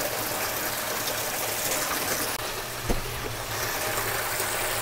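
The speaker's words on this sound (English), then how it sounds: "we're going to go ahead and fill the washer" A washing machine on a gentle cycle fills with water for a medium load, giving a steady broadband rush of running water throughout, with a brief clunk midway and no talking.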